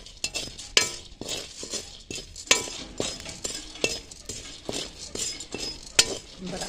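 Chickpeas being stirred while roasting in hot salt in a pan, a gritty scrape and rattle repeated in uneven strokes, with sharp metallic clinks of the spoon against the pan standing out close and fairly loud.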